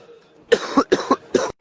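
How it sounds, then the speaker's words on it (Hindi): Three quick bursts of coughing, close and fairly loud, after a brief quiet stretch. "अभी देखो गला भी खांसी आ रही है"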